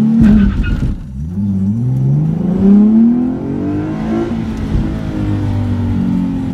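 A 2015 Nissan 370Z launches and accelerates at full throttle, its engine note climbing steeply through the revs in a loud, close rising howl, easing briefly for a shift before pulling hard again.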